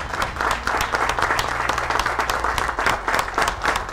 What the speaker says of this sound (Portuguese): todos os presentes dedicaram 1 minuto de aplausos em memória às vítimas do massacre a tiros na Escola Professor Raul Brasil